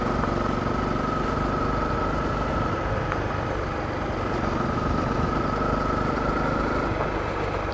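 A Honda CRF250L dirt bike engine drones steadily while riding, a constant mid-pitched single-cylinder hum with wind noise and no pauses, heard from the rider's position.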